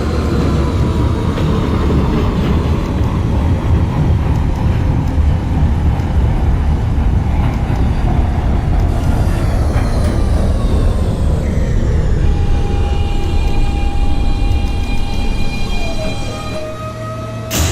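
A simulated New York City Subway R160 Q local train bound for Coney Island runs with a loud, steady rumble, then its motor whine rises in pitch as it pulls away.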